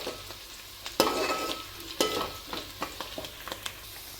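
Onion and a few curry leaves frying in a pan toward golden for a dosakaya chicken curry, a moderate sizzle punctuated by several sharp stirring scrapes and clicks.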